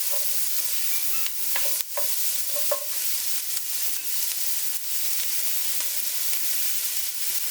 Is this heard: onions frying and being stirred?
yes